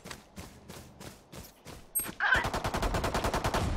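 Rapid bursts of video game gunfire in a tactical team shooter, a few spaced shots giving way to a dense, loud, continuous volley up close.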